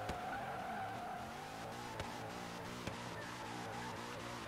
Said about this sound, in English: Luxury drifting over here